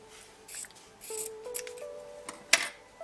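Scissors trim the seams of silk fabric in a few close, crisp snips with soft rubbing of cloth between them, with no speech.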